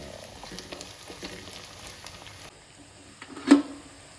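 Onions frying in a pan as the base for a jalebi fish curry, a soft, steady sizzle with faint crackles and one brief louder stir or clink near the end.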